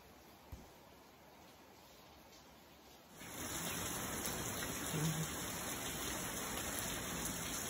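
Steady rain falling outdoors at night, faint at first and then swelling into a louder, continuous hiss of drops on surfaces that carries on evenly to the end.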